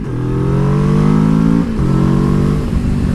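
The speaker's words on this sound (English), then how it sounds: "What you are hearing now is the aftermarket exhaust that I have" A Kawasaki Ninja 650 with an aftermarket exhaust revs loudly and close, rising in pitch, dropping briefly, then climbing again with a throaty, harmonic-rich exhaust note.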